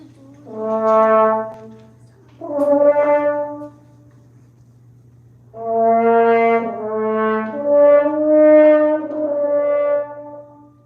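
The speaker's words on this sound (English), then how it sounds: "So a French horn sounds like this." A French horn plays mellow, sustained notes in two short phrases separated by a pause, warm and full over a faint steady hum.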